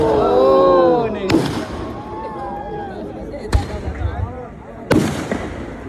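Three sharp, booming firework bursts go off a couple of seconds apart at a temple festival display, each with a rumbling tail, while a person talks loudly over them.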